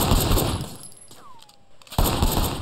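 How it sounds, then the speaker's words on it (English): Rapid bursts of automatic gunfire in the Sleeping Dogs video game, loud and close, cutting out briefly with a whistling tone before resuming. "Shooting at the guys over there."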